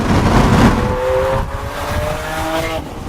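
2015 Lamborghini Aventador Roadster accelerating hard, a loud close engine roar that climbs in pitch through rising revs, with a short dip as the single-clutch automatic shifts.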